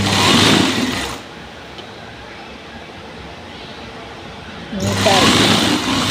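A sewing machine stitching a blouse runs in two short rapid whirring bursts at the start and end, with a quieter stretch between where someone talks.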